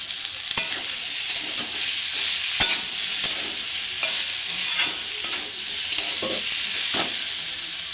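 Ridge gourd fries in a pan with already fried tomatoes, a continuous close sizzle broken by repeated spatula scrapes and knocks at an irregular rhythm, with no talk.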